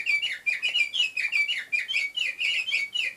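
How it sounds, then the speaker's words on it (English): A bird clock sounds its noon bird call, a rapid run of bright repeated chirps and tweets, clear and close, with no talking over it. "Oh, bird clock! Noon!"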